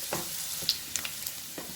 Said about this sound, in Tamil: இஞ்சி பூண்டு போட்டுக்கலாம். இதெல்லாம் கொஞ்சம் லைட்டாக வதங்கட்டும்.